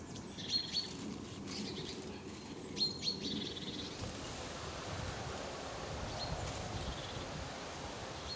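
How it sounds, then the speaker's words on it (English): Birds chirp in a quiet natural setting outdoors, a few faint, distant calls scattered over a soft hiss of ambient background noise. "I really love the silence here and that nature sounds come through so much. Like the birds, for example."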